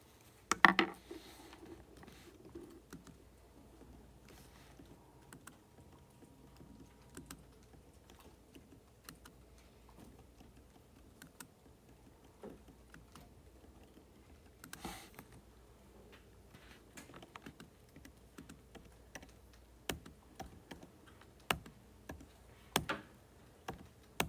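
Scattered, faint button taps from entering statistics data, midpoints and frequencies, into a graphing calculator, irregular presses in a quiet room with no talking.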